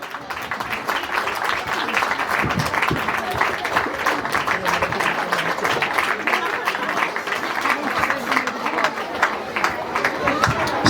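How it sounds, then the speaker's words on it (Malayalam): Audience applause at a school felicitation ceremony as a guest is invited onto the stage, a steady dense wash of clapping with crowd murmur running evenly throughout without a break. "നല്ല കൈയടി കൊടുക്കുക"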